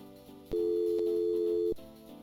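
A telephone in the Gabriel Knight adventure game gives a dial tone: a single steady electronic tone sounding for about a second, set between soft clicks of the handset.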